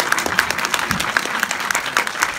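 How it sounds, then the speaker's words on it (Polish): An audience applauds at a book premiere, a sustained burst of many hands clapping indoors with sharp irregular claps over a steady patter. "A jak państwo nie pożałujecie oklasku, to będę super wdzięczny"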